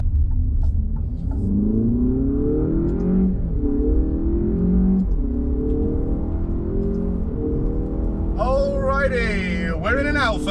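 An Alfa Romeo car engine hums and rises in pitch through several revving pulls, steady and close, with a sharper whine near the end.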